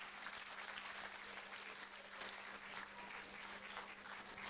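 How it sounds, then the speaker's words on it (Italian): Applause for teenage performers at a Christmas youth theatre show, a faint, even patter of many hands clapping continuously at a distance, with a low steady hum underneath. "Ancora un applauso a questi ragazzi"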